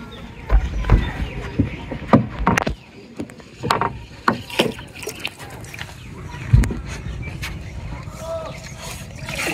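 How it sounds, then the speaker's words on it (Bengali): A small rowboat being rowed on open haor wetland water, with irregular knocking thumps and creaks of the oars against the hull, fairly close, while voices talk in the background. "রোদের মধ্যে নৌকা বেও না"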